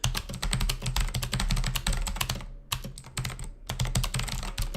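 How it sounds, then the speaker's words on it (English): Fast, continuous clacking of typing on an Aula Wings of Liberty mechanical keyboard, close and crisp, with a couple of brief pauses between bursts of keystrokes. "I'm going to type my favorite sentence on this"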